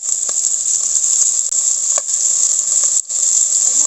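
Octopus sizzling in a hot pan, a steady loud frying hiss with faint crackles and brief dips as pieces shift, no talking over it.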